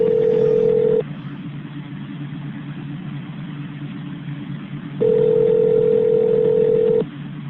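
Two long steady electronic telephone tones sound during a call transfer on a phone line, separated by a low hum of line noise, loud and close with no voices.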